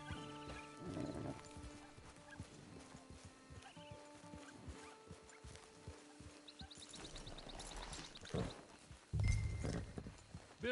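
Horse hooves clip-clop at a steady walking pace near a camp and hitching post, with a brief whinny or snort, rustling and thuds building louder toward the end.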